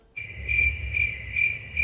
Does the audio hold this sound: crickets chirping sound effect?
yes